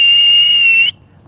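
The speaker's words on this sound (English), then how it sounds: "I'm whistling for my dogs." A person whistles for dogs: one loud, steady, high-pitched whistle held for almost a second, then cut off sharply into near silence.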